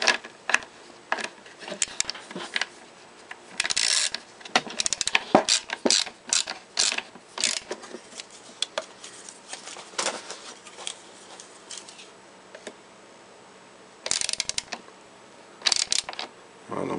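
Fasteners being tightened on a hydrogen dry cell assembly, giving irregular ratcheting clicks and mechanical creaks in short bursts with pauses between, close up and fairly quiet.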